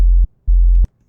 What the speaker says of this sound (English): it's just in serum, a simple sine wave with the sub oscillator as well